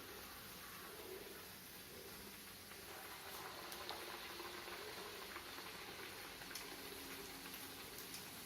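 Raw plantain slices dipped in batter fry in hot oil for bajji, a soft, even bubbling sizzle that holds steady and fairly quiet throughout, with no voices.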